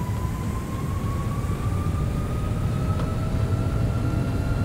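Boeing 757 jet engines spooling up steadily in the X-Plane 11 flight simulator, a loud continuous roar with a rising whine, no talk.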